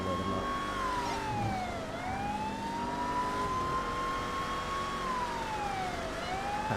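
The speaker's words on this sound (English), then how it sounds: "he can actually hear my lights and sirens now" A wailing police car siren in a video game sweeps up and down repeatedly over a steady engine hum, at moderate distance.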